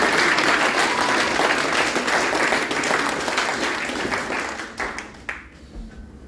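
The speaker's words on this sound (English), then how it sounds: "Can we have a round of applause for both of them?" A crowd at a boxing match applauds both fighters after the bout, loud dense clapping that slowly thins and fades away toward the end.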